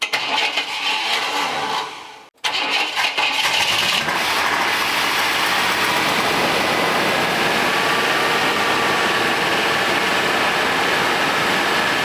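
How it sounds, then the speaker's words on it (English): An old OBS GMC pickup truck engine runs at a steady idle after a rough start, a continuous close hiss-like rumble that holds level for several seconds. "So I've had the truck idling here for, I don't know, 5 or 6 minutes"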